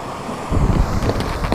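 Gusty wind buffets the microphone on a Norfolk beach, England, a low rushing roar that swells partway through, with faint surf-like wash behind it.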